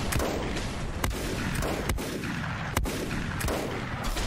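Gunfire aimed at turrets in the game Volcanoids: a steady series of sharp, booming shots spaced roughly a second apart, loud and close, over a constant rumbling background, with no talk.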